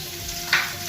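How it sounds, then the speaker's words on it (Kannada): A chopped onion drops into hot coconut oil in a frying pan for Tulunad-style chicken sukka, giving a close, steady sizzle that swells into a brief louder hiss partway through. "ಈರುಳ್ಳಿಯನ್ನು ಸೇರಿಸಿ ಫ್ರೈ ಮಾಡ್ಕೋಬೇಕು."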